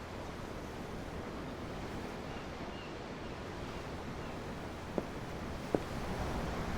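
Ocean surf from Tales of Arise rolls in a steady, even wash with a breezy hiss, heard from on deck of a ship, with two brief faint clicks near the end.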